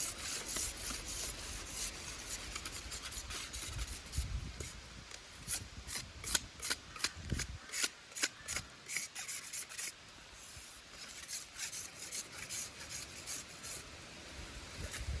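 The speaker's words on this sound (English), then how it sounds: "So use the back of the knife and just smoothen them all off" Soft wood stick scraped smooth with the back of a knife while making a traditional fire, heard as close, repeated rasping strokes that grow sharper and more rhythmic midway before settling into a steadier scratch.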